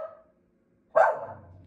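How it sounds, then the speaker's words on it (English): A pet dog at home lets out a single sharp bark, close and fairly loud, after a faint earlier sound and a moment of silence. "She's barking at nothing right now."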